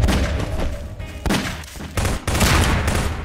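Rapid bursts of gunfire in Garry's Mod crackle and thump in quick succession, loud and dense, with brief gaps between volleys.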